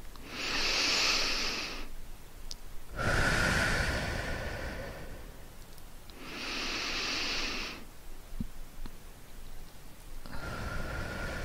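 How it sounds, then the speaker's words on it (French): Deep, slow breaths during a sophrology relaxation session, heard as four long, airy rushes of breath separated by short pauses. They are close and steady, with no talk. "3 respirations profondes et je souffle longuement l'air"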